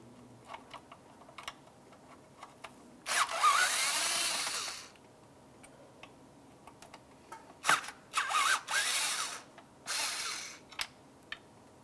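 Ratchet wrench loosening two 10 mm bracket bolts near a bulkhead connector on a 2006-2018 Jeep Wrangler JK: two close, rapid clicking bursts of a few seconds each, separated by quieter handling noises.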